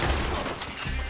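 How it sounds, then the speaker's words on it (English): Gunfire from the Red Dead Redemption Online video game, a dense burst of overlapping shots and booms filling the whole second, loud and continuous with no talk over it. "I'll just keep shooting him."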